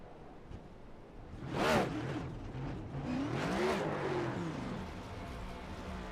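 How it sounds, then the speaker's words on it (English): A race car doing a burnout at a motorsports shootout, its engine running short of fuel: uneven revving surges rise and fall twice, sputtering rather than holding steady, with no talk over it. "it sounds like the car is out of fuel."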